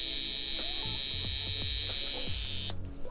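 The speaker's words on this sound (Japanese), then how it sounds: "そのコオロギがね鳴くようなビーっていう音がするので" A vintage wristwatch alarm, resting on a cushion that damps its resonating caseback, gives a steady, shrill insect-like buzz that runs for nearly three seconds with faint low knocks beneath, then cuts off abruptly.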